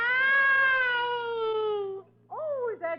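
A person mimics a cat with a long, drawn-out meow, followed after a short pause by a second, shorter rising meow-like sound.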